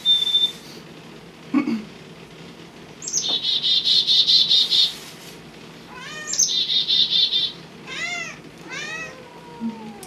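A chickadee gives bursts of rapid, bright chirping notes and a few sweeping calls, separated by pauses. A nearby cat meows briefly once in between.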